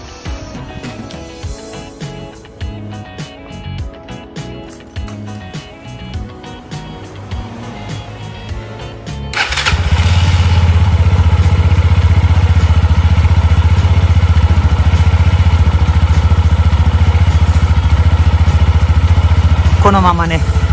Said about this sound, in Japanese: エンジンを暖気します